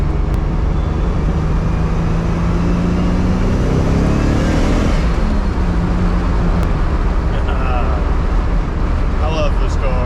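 A Nissan 300ZX Turbo cruises along the road with a loud, steady, droning engine and road rumble heard from inside the cabin. The engine pitch rises briefly as it accelerates midway.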